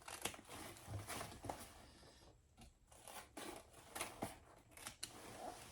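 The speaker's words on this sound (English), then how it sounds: "I am going to trim those. corner seams just a little." Scissors snipping the fabric corner seams of a sling bag, a quick series of faint, close crisp cuts with brief rustling pauses between.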